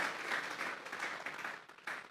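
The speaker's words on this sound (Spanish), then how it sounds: "Vamos a regalarle ofrenda de palmas al Dios de la gloria." A church congregation claps together during a Spanish-language sermon on Genesis, a steady wash of applause that holds for about two seconds with small swells and no voices over it.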